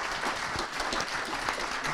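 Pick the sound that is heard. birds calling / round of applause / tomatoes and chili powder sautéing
round of applause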